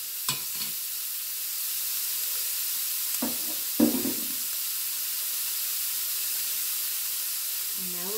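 Ground meat for Cuban picadillo sizzles steadily in a pan, a constant close frying hiss with a few brief clatters of stirring, while a voice speaks briefly.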